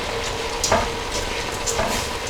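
Ingredients for Lebanese mujaddara stirred in a hot pan, a steady sizzle with a couple of soft scrapes from the spoon, close and without speech.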